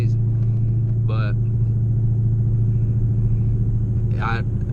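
A supercharged Dodge Hellcat idles off the throttle with a constant low rumble and faint supercharger intake whine, while a voice breaks in briefly twice over the engine.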